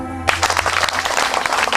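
A short burst of audience clapping breaks out abruptly after a held tone, a dense, loud patter of many hands that continues without pause.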